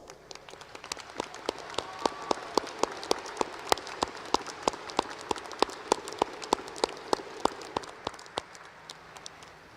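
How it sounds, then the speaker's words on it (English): Audience applause at a graduate school commencement honoring the faculty, a sustained patter of many hands with sharper individual claps standing out, moderately distant in a large hall. "Faculty, will you please stand as our audience acknowledges you with a round of applause."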